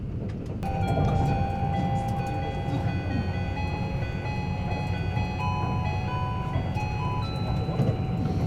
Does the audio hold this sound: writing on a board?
no